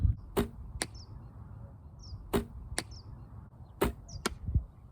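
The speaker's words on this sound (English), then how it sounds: "Buzz Brown Arrow scores a 14" Arrows strike an archery target at practice, three pairs of sharp thwacks spaced a couple of seconds apart, each followed by a faint higher ring, over quiet outdoor background.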